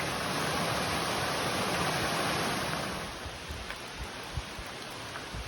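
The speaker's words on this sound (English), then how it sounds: "What a pretty little cascading creek." Continuous rushing water of a small cascading creek along the Appalachian Trail in Pennsylvania, a broad steady hiss of water tumbling over rocks, close by, easing slightly in loudness partway through.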